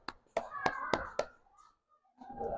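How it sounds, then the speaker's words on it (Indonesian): Children in a classroom clap for a group that has just presented, a short burst of about five sharp, spaced claps, followed after a pause by a brief murmur of voices. "tepuk tangan buat kelompok yang sudah maju mewakilkan"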